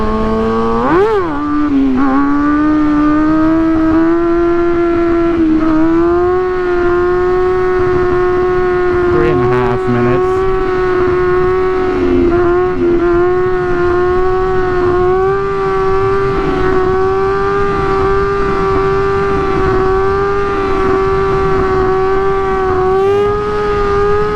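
A vehicle engine holds a long, steady drone through a sustained wheelie, its pitch drifting slightly up and down with small throttle changes, loud and continuous throughout.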